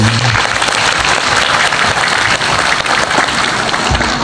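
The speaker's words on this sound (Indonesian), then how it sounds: "tepuk tangan dulu dong" Loud, dense clapping from an audience at a literacy talk, continuous and close throughout with a faint crowd murmur beneath and no one speaking over it.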